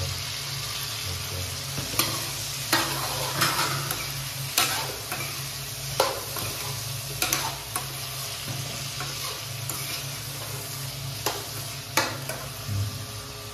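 Fish coated with turmeric fries in hot oil while being stirred, giving a steady close sizzle broken by regular sharp scrapes and clinks of a spatula against the pan, with no voices.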